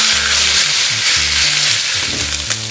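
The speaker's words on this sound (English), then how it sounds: "we're gonna go ahead and brown our meat before we add the garlic and the onions" Pork browns in a hot pan for dinuguan, a steady close sizzle and crackle of frying meat with a low hum underneath, no voices.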